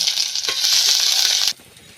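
Crushed ginger hitting hot oil in a kadai with panch phoron, a loud close burst of sizzling hiss that holds steady for about a second and a half, then cuts off abruptly to quiet.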